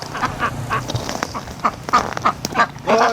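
Ducks quacking in short repeated bursts on a backyard patio, nearby and fairly loud, the calls spaced irregularly with a few overlapping, no talking.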